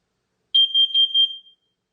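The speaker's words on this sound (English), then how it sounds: "this carbon monoxide alarm is ready to go" A carbon monoxide alarm runs through its test beep sequence, giving a short run of loud, high electronic chirps on its own in a quiet room.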